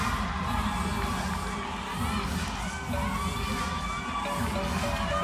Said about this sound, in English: Crowd getting behind both these teams here.